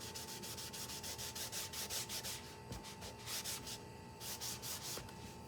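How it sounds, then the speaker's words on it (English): Steady rhythmic rubbing strokes as paint is wiped and worked into a canvas background, a soft, close, continuous scrubbing with even back-and-forth pulses. "So I have to wipe that down a little bit and rub it in a little bit more."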